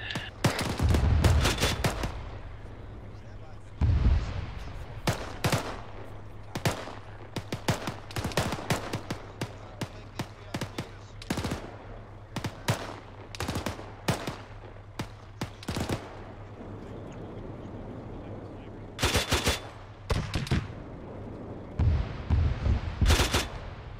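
Artillery and gunfire from a military video game: repeated sharp cracks and heavier booms arrive in irregular bursts over a steady low hum, some close and loud, others fainter and spread out across the stretch.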